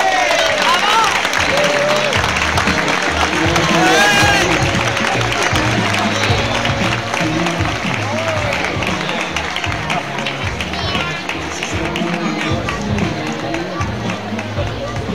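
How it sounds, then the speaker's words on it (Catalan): An audience at a Christmas fair in Solsona applauds a storytelling contest winner with steady, sustained clapping over background music, continuing throughout at an even level. "fent un fort aplaudiment"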